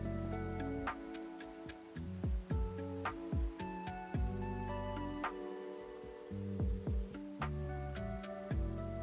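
Rain in a modded Minecraft world, heard as scattered, tinkling drips and ticks at irregular intervals over a steady low background, with no one talking.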